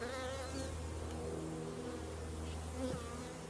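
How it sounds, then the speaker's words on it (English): Honeybees from a freshly installed nuc hum around a lifted frame in a small apiary, a dense steady buzz close by with individual bees droning past, no voices. "Good looking frame of bees"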